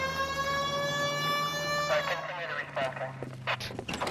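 Police car siren in the video game L.A. Noire, a steady wailing tone rising loud and close, continuing under a man's speech and engine noise in a 1940s Los Angeles driving scene.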